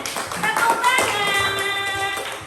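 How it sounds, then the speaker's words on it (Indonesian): Classroom clapping from students during a group discussion lesson, a dense patter of hand claps mixed with children's voices and chatter, steady and fairly loud for a few seconds. "Betul ya, tepuk tangan."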